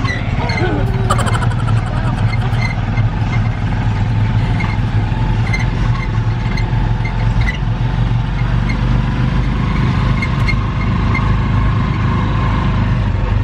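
Motorized tricycle ride in the Philippines, a steady droning engine rumble that runs loud and unbroken from start to finish, with brief clatter near the beginning and voices talking over the motor.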